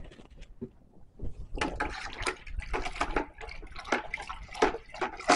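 Star San sanitizer being stirred into a container of water, a busy sloshing and swishing that rises after a quieter start and keeps churning steadily, close and fairly loud, with no talk.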